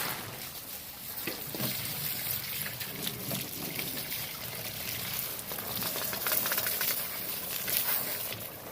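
Water splashes and trickles steadily over sugar cane as it is washed outdoors, a continuous close hiss with small irregular splashes throughout.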